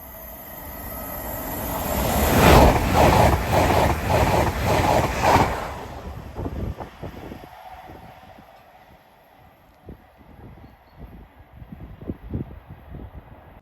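A TransPennine Express passenger train bound from Newcastle Central to Liverpool Lime Street roars loudly past Hett Mill level crossing with heavy rushing noise, then fades to scattered wheel clicks and rumble as it moves away.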